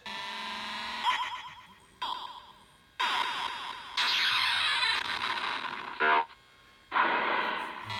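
Electronic sound effects from a Williams PinBot pinball machine with a System 11 board, run in its sound test, play in distinct bursts, buzzy and bright tones separated by brief pauses, loud and close with no talking.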